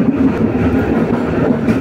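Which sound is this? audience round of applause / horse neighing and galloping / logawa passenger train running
logawa passenger train running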